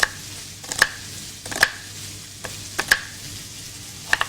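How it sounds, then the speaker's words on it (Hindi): Sharp knife strokes cut an onion on a board in a home kitchen, five or six separate crisp chops spaced unevenly apart, close and clear over a faint steady background hiss. "ऑमलेट की तरह आपने प्याज चॉप करनी है"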